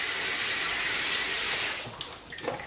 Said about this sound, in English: as you wash the prints, they become lighter